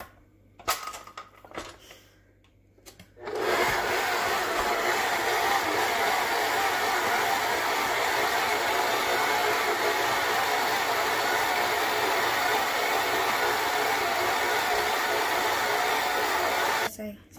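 Electric mixer running steadily through cookie dough with eggs and vanilla extract for Oreo chunk cookies, a loud continuous whir after a few seconds of quiet handling, alone to the end.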